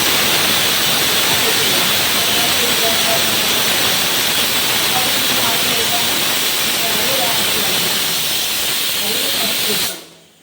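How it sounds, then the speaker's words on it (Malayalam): A steady, loud whirring roar of a grinder grinding coconut with water runs continuously for about ten seconds, then cuts off abruptly. "ഇത് കുറച്ച് വെള്ളം ഇട്ട് ഇത് അരച്ച് കൊണ്ടുവരാം"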